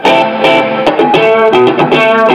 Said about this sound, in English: The second one is this Keeley Oxblood Overdrive